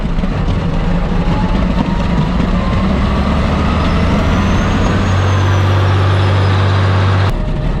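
Caterpillar dozer of about 200,000 pounds with an exhaust leak running with a constant, heavy diesel rumble up close; the engine note deepens partway through, then cuts off abruptly just before the end.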